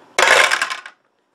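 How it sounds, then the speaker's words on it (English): Dice clatter across a tabletop during a Zombicide board game, one short, bright rattling burst close by with no talk, ending in silence. "So let's roll the dice."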